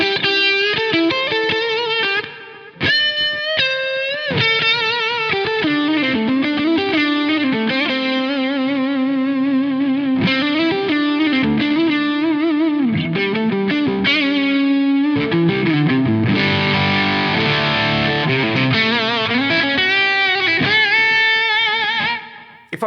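Electric guitar on the neck humbucker driven through an SD1-style overdrive plugin with drive up and tone rolled down, playing a sustained, smooth, distorted melodic line with bends for over twenty seconds, loud and alone.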